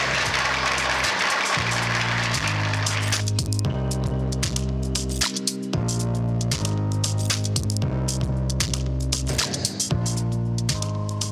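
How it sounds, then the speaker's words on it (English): Conference audience applause at a restaurant managers' event rises briefly at the start, then is quickly covered by loud music with a steady bass line that carries on to the end. "Let's give ourselves a round of applause"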